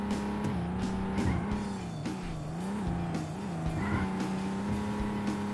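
Car engine in the video game Roadkill, a steady droning whine that rises and dips with throttle changes, with brief tire squeals and skids over a continuous loud motor.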